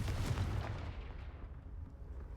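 Confringo spell explosion in a video game: a dense, booming blast with rumbling low end that fades steadily over about two seconds.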